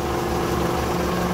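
A warm Toyota car engine idles with a low, even hum that stays steady and fairly quiet throughout, with no voices.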